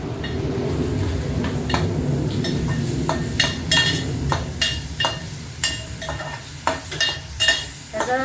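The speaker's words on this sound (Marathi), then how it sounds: "कच्चं जे आहे ते निघून गेलं पाहिजे म्हणून आपण हे परतून घेत आहे" A ginger, garlic, coriander and cumin paste sautés in a pan for veg pulao, with a steady sizzle underneath and repeated sharp clinks of a spoon stirring against the pan.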